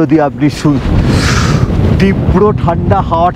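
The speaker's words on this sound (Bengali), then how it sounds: "তীব্র ঠান্ডা হাওয়াটা" Strong, cold gusts of wind buffet the microphone with a roaring rumble at Pangong Lake, about 14,000 feet up, while a person talks over it in short bursts.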